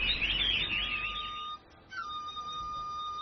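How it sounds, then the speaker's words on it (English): Caged pet birds in a park chirp and warble in a quick high trill, then hold thin sustained whistled tones after a brief pause, close and clear. "A favorite local pastime is taking pet birds to the park and listening to them sing."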